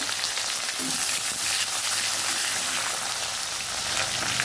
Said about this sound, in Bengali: দিয়ে দিচ্ছি পেঁয়াজ কুচি। পেঁয়াজ কুচিটা একটু নেড়ে চেড়ে